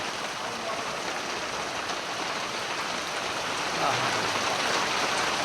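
Steady rain falls across a village, a continuous dense hiss of drops on surfaces that holds even throughout and swells slightly near the end, with no voices.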